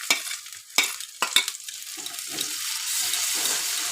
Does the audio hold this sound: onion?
yes